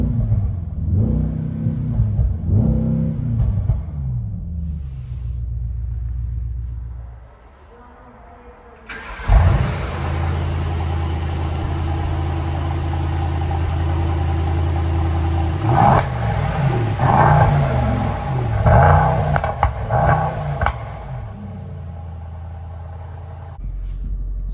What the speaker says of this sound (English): let's do a little rev just to hear the sound of the engine.